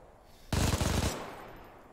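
A burst of machine-gun fire from what seems to be a Bren gun in a beach-landing video game, a loud rapid string of shots lasting about half a second, then a fading echo.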